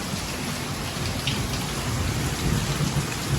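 A heavy nighttime downpour roars steadily, with a low rumble of thunder rolling underneath through the whole stretch; no one speaks.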